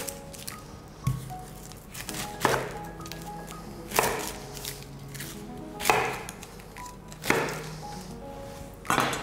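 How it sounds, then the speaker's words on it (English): A knife cuts onions into quarters on a board for traditional gravy, giving several close, separate crunchy chops with pauses between them and no talking. "And then with our onions, I'm going to cut these into quarters."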